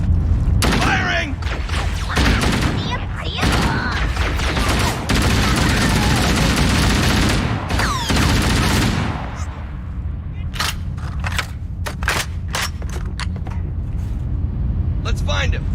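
Bursts of loud weapon fire and impacts in Halo: Combat Evolved Anniversary, dense and sharp for the first several seconds, then thinning to scattered individual shots and clanks, with voices speaking over the action.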